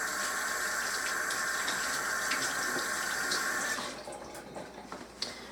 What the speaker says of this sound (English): Got to rinse my hands off